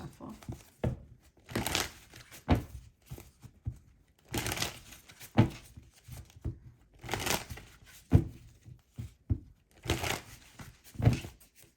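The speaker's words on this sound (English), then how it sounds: "I gotta shuffle." Tarot cards being shuffled by hand at close range, giving about four separate bursts of crisp papery riffling and crinkling, with quiet gaps between them.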